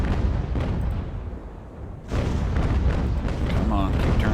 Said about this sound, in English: now we're taking the broadsides